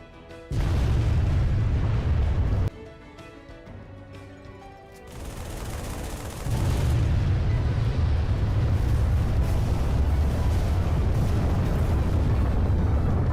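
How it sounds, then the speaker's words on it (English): A huge nuke explosion sound effect from the video game Halo 3 roars loud and close as a sustained, rumbling blast that dips briefly, then swells again into a long, heavy roar, with no talking. "Here it is. Huge explosion."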